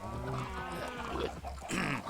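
Pigs grunt and oink in the Minecraft video game during animal breeding, several short snorting grunts in quick succession, loud and near, with a faint voice underneath.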